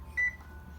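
A short electronic oven beep, one clear tone followed by a softer second note, near and alone over a low room hum.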